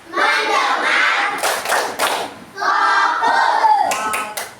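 A classroom of children performing the tepuk fokus clapping game, chanting loudly in unison while crisp group claps punctuate the rhythm in short clusters, near and lively, repeated across two phrases.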